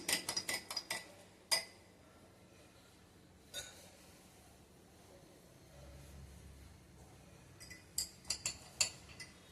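A spoon stirring raw mango juice with sabja seeds in a glass, sharp clinks in quick bursts at the start and end with a quiet gap between.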